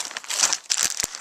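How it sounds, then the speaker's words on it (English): A plastic Ziploc bag packed with a tourniquet, combat gauze and large-bore angiocaths is handled close up, giving about a second of loud, dense crinkling with several sharper crackles and no talk. "it's just a Ziploc bag."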